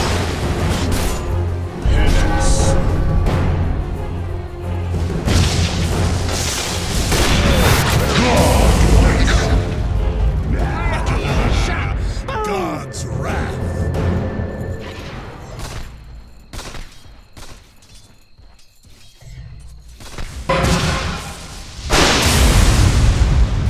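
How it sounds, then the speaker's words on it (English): Towers come under attack in a Dota 2 match, with a dense barrage of booming impacts, bursts and crashes that are loud and continuous, then thin out briefly before the clash picks up again. "Radiant's bottom tower is under attack. Radiant's middle tower is under attack."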